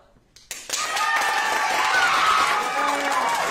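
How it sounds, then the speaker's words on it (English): An audience at a Halloween costume recital breaks into cheering and applause after a brief quiet start, a sustained crowd roar with whoops and clapping that stays loud to the end. "So let's cheer for our favorite costumes here."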